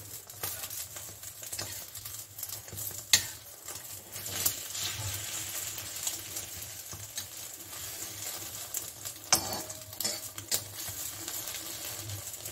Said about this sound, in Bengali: এইভাবে করে আমি ডিমটা একটু উল্টিয়ে দিচ্ছি।